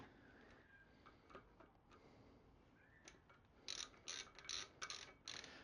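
Torque wrench ratchets on the wheel bolts of a BMW K100 cafe racer: quiet clicks at first, then a quick series of sharp, louder ratcheting bursts close by.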